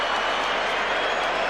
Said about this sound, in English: The Mexican crowd giving him a mixed reception.